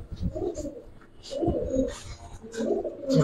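Silver khaki subchila pigeons coo nearby in a home loft, three rounds of low rolling coos in a steady rhythm, fairly loud and close.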